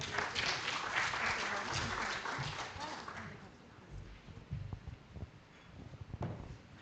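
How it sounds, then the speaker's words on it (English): Audience at a policy panel on asymmetric security threats applauds warmly for a few seconds, then the clapping tapers into scattered claps and faint room murmur. "Let's give them a round of applause, please."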